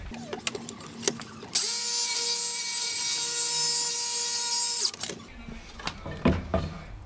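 A power saw rips along a length of timber for solid blocking, running loud and steady for about three seconds between quieter handling noises at the start and end.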